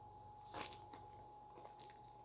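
Teeth biting into the crispy, crunchy bark of a smoked chuck roast: one faint, crisp crunch followed by a few soft chewing clicks in a quiet room.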